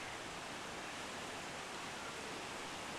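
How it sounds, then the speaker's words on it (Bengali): Meltwater from the Trishul glacier pours down a mountainside on a Himalayan trek route, a steady, dense rushing roar with no pauses, loud and close, with no voices over it. "ত্রিশূলের গ্লেশিয়ারের জল এইখান থেকেই বেয়ে বেয়ে পড়ে"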